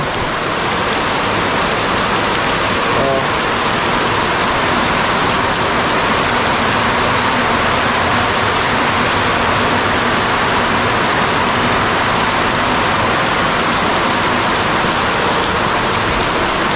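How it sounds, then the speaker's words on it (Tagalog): Heavy, cold downpour of big raindrops, a dense constant roar close by that fills the whole stretch, with one brief exclamation from a person. "Ang laki ng patak."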